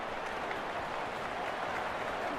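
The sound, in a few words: stadium crowd cheering a punt return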